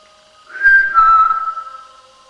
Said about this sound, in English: If I whistle, could you whistle back?